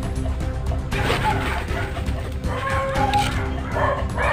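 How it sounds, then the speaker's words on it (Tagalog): A dog barks repeatedly outdoors, sharp yips and woofs mixed with steady background noise and a faint rooster or fowl, fairly loud and close. "Makaw lang aso."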